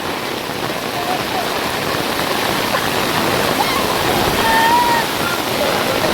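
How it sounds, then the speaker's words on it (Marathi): Heavy rain pours down steadily in a village in the Konkan region, a dense, loud, continuous hiss of rainfall with no break across the whole stretch, and no talking comes through. "खूप जोरात पाऊस आलाय मित्रांनो."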